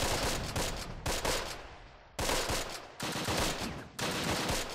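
Gunfire from a WWII tactical strategy game set in Normandy, with repeated rattling bursts of rifle and machine-gun fire in several loud waves that trail off between volleys, and a brief spoken word.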